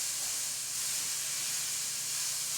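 Frozen beef bourguignon packs frying in a pan over medium heat, giving a steady, close, even sizzle and hiss with no breaks and no talking.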